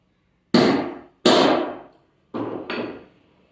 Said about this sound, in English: we'll hammer it a bit